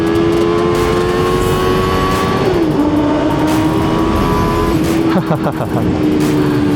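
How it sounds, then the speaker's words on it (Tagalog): A 600 motorcycle engine drones steadily while riding, its pitch dipping and shifting as the rider changes speed, loud and close amid wind noise, with a voice speaking over it. "Sarap magmotor!"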